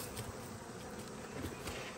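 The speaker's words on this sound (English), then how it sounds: "you can see these robber bees are still trying to go in and out" Honey bees buzz around a beehive while robber bees try to get in and out in the fall, a soft, continuous swarm drone with no voices, steady and fairly faint throughout.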